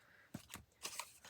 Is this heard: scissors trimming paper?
yes